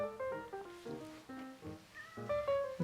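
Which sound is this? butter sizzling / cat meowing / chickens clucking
cat meowing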